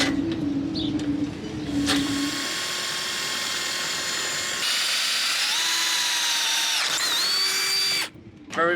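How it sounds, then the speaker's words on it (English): A power drill bores into a steel side bracket on a catamaran outdoors on a windy day, running in a loud continuous whine that shifts pitch as it bites, with a brief pause near the end before restarting. "Very professional drilling."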